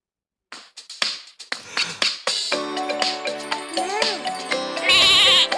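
A wavering sheep bleat in a children's animal-sounds game rises among clicks and bright electronic tones, close and fairly loud, with a brief burst of noise near the end.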